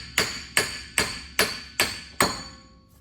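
Six sharp metallic hammer blows strike a brass piece set against a CV axle on a Subaru Crosstrek during rear wheel bearing work, evenly spaced, close and ringing briefly after each hit.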